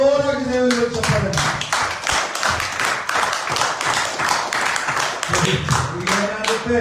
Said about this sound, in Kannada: ಜೋರಾಗಿ ದೇವರಿಗೆ ಚಪ್ಪಾಳೆ